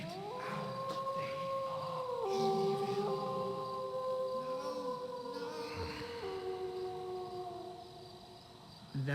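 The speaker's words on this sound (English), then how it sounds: "That was just a dog howling." A long mournful dog howl with sliding pitch, repeated over an eerie ambient background in a scene from the game Shivers.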